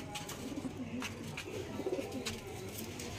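Home-bred Andra pigeons coo in a low, throaty, steady rhythm, with several soft repeated coos close by and no other voices.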